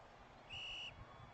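A single short referee whistle blast before a kickoff in a college football video game, clear and steady for under half a second over faint background noise.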